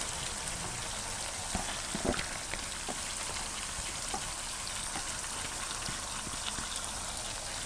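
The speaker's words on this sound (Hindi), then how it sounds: "अब हम दाल को भूनते हैं।" Dal lentils fry in oil in a pot after goat meat has been browned, giving a steady, even crackling sizzle with small pops throughout, fairly soft and with no talking.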